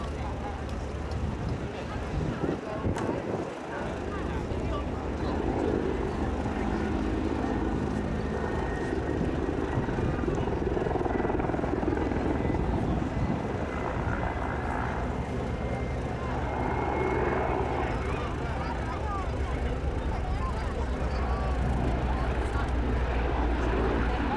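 A Hungarian Air Force Mil Mi-24P Hind helicopter flies at the RIAT 2022 air show, its loud, continuous engine and rotor roar filling the whole stretch. Crowd voices are heard underneath.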